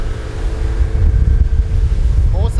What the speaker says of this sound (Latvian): Mūsējā otra laiva.